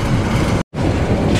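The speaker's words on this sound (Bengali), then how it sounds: "আন্তনগর উপকূল এক্সপ্রেস রাইট নাও প্রবেশ করতেছে লাকসাম জংশনের ৩ নম্বর প্ল্যাটফর্ম ধরে" The Upakul Express intercity train pulls into platform 3 at Laksam Junction at night, a loud, steady rumble and rattle of wheels and carriages, briefly cut by a short gap.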